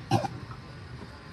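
A single short cough bursts out close by, followed by quiet breathing and faint room noise.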